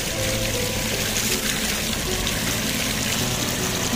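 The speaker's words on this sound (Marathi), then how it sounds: "जोरान पाणी इथं वाढलंय आणि शुद्ध पाणी आहे" Strong stream of clean water gushing from an outlet on a rural roadside in Mul taluka, a steady, close, full-bodied rush with no pauses and no voices.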